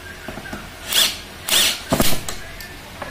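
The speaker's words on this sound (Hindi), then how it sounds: "ये ड्रिल मशीन हम लगा लेके यहाँ पर हम स्क्रू डालेंगे" An electric drill machine whirs in short bursts while driving screws into a wall to mount a Dolphy DPDR0001 paper dispenser, with three or four brief close revving pulses separated by pauses.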